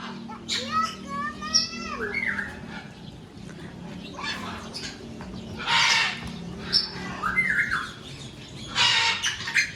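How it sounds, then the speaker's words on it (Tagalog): Parrots, including cockatoos, squawk in a big cage at a safari park in Clark, Pampanga, sounding as loud harsh calls and shrieks in bursts, mixed with excited children's voices and nearby talk. "That's parrot."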